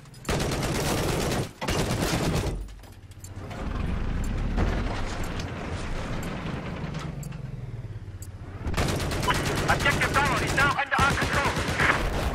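Gunfire in the video game Battlefield 4 during a multiplayer match, with loud rapid bursts of shots and mechanical weapon clatter filling most of the stretch, dipping briefly between volleys.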